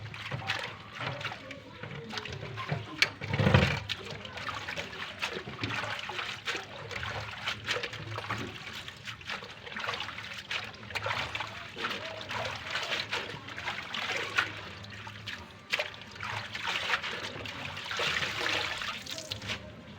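Fish being rinsed under running water, a continuous close splashing trickle with irregular bursts and soft handling clatter, fairly quiet throughout.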